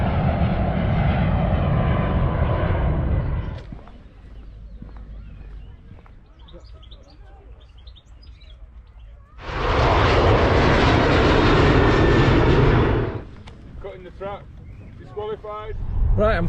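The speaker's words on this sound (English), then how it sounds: "Now we've got the Ryanair going up." A Ryanair airliner climbs out after takeoff with a loud broadband jet roar, first heard alone, then again after a quieter gap. Birds chirp faintly in the gaps.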